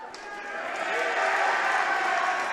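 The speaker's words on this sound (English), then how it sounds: "The two student bodies cheering back and forth." Rival high school student sections at a basketball game cheer back and forth, a sustained roar of crowd voices swelling and holding steady throughout.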